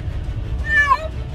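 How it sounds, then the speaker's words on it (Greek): Frightened kittens meow in a car while a family flees a wildfire in Attica, Greece: a single clear, rising-falling meow over a steady low engine and road rumble. "Ακούτε τα γατάκια τα οποία έχουν φρικάρει."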